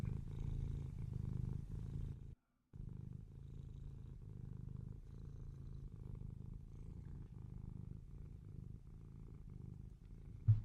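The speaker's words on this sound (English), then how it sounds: "It's cat purring." Close, soft cat purring in a continuous rhythmic rumble, briefly cut off once, with a small thump at the end.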